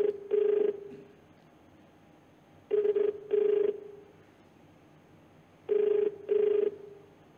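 An unanswered telephone call rings three times, each a double burst of electronic ring tone, separated by long quiet gaps with faint background hiss.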